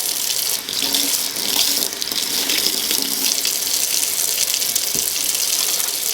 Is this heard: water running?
yes